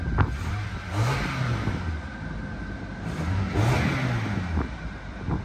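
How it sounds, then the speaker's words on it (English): A car at an auction yard revs twice, each burst climbing in pitch and falling back to a steady idle, heard up close with no talking. "let's give it a little rev, see how she sounds"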